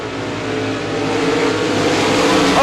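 RaceSaver sprint cars racing at Devils Bowl Speedway, a loud dense roar of engines at full throttle that swells steadily as the pack charges, no voices standing out.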